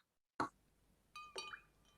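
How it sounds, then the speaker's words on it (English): Ice cubes drop into a glass of lemonade, giving one sharp clunk followed shortly by a couple of lighter ringing clinks, close and quiet with no talk. "Let's drop in some ice cubes."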